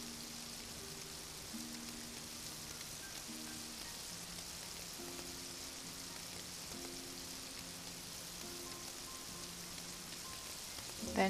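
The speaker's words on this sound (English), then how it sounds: "let it fry over medium heat" Lotus root pie frying in a pot of oil over medium heat, a steady, even sizzling hiss throughout, with faint tonal music underneath.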